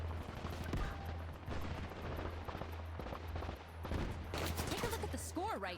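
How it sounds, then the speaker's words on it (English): Shotgun fire in the arena shooter Combat Champions crackles in repeated bursts of rapid gunshots over busy game effects and a constant low hum, with a voice briefly audible. "Freaking shotguns."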